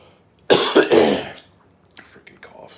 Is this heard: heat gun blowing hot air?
no